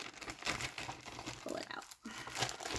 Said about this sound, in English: he got me plastic bags because glare